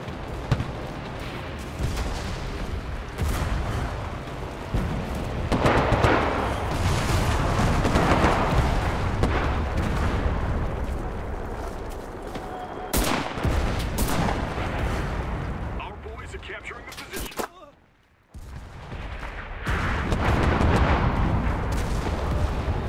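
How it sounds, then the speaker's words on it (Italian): Artillery barrage in the World War II shooter Enlisted, Battle of Tunisia, Oasis North: dense, continuous booming explosions and gunfire, loud and close, with a brief near-silent gap before the barrage resumes, voices faintly mixed in. "Sto chiamando l'artiglieria!"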